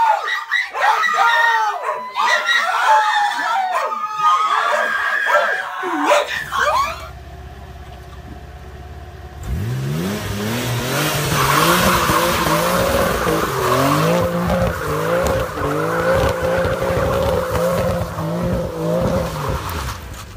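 Tires squeal and a rear-wheel-drive Mitsubishi 3000GT's engine roars through a sustained burnout on a street, loud and continuous after a short lull, with excited shouting and voices at the start.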